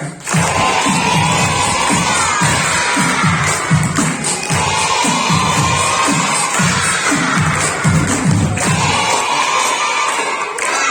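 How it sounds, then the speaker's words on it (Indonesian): A crowd of children clapping in rhythm and shouting loudly together, sustained cheering throughout. "Tepuk tangan sambil teriak."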